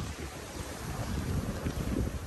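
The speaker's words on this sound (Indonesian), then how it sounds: "angin pantai" Steady sea wind buffets the microphone on a beach at Teluk Dalam Resort on Pangkor Island, a continuous low rumbling roar with a faint wash of waves beneath, loud and unbroken throughout.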